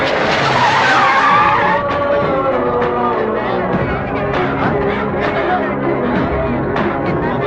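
A car speeds with its tyres skidding in a Telugu action film chase, a loud sustained screech that opens strongly and gives way to roaring engine noise and clattering, with voices mixed in.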